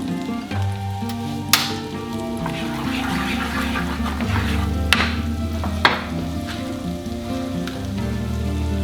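Garlic sizzles steadily in a pan of butter and olive oil, a constant close crackling hiss with a few sharp clicks and pops over the top.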